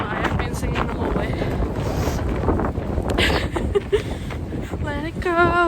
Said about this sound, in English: It's very windy, very snowy.